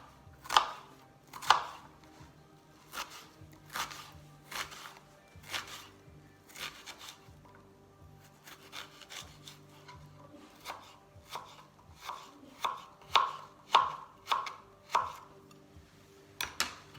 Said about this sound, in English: using the lines on the onion as a guide, don't cut it to the very end